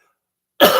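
A single short, sharp cough bursts out of silence, close and fairly loud, from a person with a persistent week-long cough.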